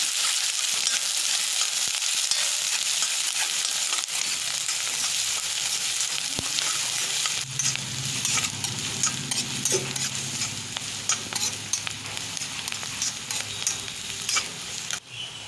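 Chopped onion frying in a pan while being stirred, a steady sizzle with repeated scraping strokes that grows fuller and busier partway through, close and with no talking.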